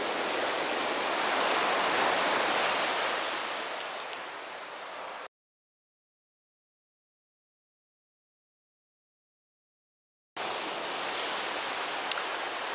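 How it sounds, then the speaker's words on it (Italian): Sea waves washing on the shore during a coastal walk, a steady broadband wash of surf heard twice with a silent gap between, moderately loud and with no talk. "Vi faccio vedere il mare perché so che lo volete vedere."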